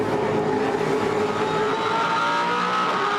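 A V8 Supercar racing engine roars on board at Eastern Creek Raceway, a loud, steady, high-pitched drone with sustained tonal whine throughout.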